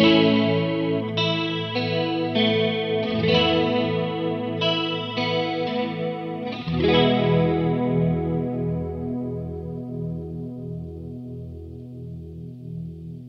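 Guitar run through a Free The Tone TA-2H chorus pedal: a few strummed chords and notes with a shimmering, wavering chorus swirl, then a long ringing chord slowly fading out, close and without talk.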